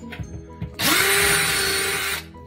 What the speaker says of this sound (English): So in there, there's a drill bit and this centers to the hole.